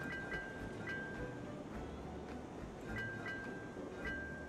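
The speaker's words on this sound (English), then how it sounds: "even if you slam the brakes on, the train's gonna stop real fast in this game." A train in the RailRoads Online game runs steadily on rails with a constant low rumble and occasional faint clicks, continuous and moderately quiet throughout.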